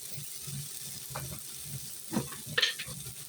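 Ginger paste sizzles in a pan while rice for pulao is fried in the tempering, a steady close hiss with soft stirring scrapes and a couple of sharper clinks near the end.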